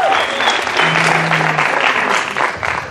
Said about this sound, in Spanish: un aplauso para Gatina Street